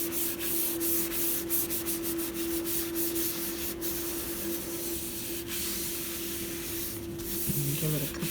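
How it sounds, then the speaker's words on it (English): Continuous soft rubbing as excess glue is wiped off pages of a no-sew junk photo journal, close and steady with faint tapping and a steady tonal hum underneath. "wiping up any excess glue that oozes out"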